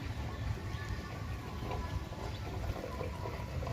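Rainwater spilling from a tilted pot holding a grape plant on a rooftop, a soft continuous trickle and splash of running water with low rumbling background noise.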